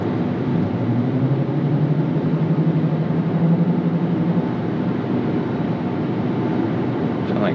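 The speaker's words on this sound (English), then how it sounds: "Sound like some kind of road noise there from something on the road." Steady low tire and road rumble fills the cabin of a 2023-2024 Dodge Hornet GT AWD cruising on a smooth road, a continuous broadband roar with no breaks.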